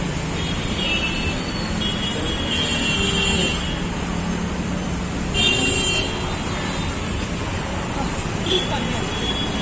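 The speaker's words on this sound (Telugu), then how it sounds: "చూడండి ఎలా ఉందో ట్రాఫిక్" Busy Bengaluru road traffic rumbles continuously with engines passing close by, a few short horn toots cutting through, and voices talking in the street.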